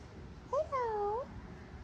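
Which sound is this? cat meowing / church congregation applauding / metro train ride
cat meowing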